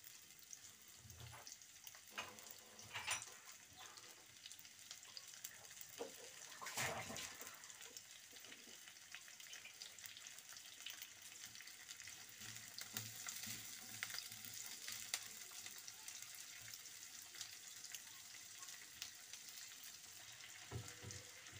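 Soft, steady sizzling of onions caramelizing in a pan, with a few louder hisses and splashes as water hits the hot surface, quiet and close.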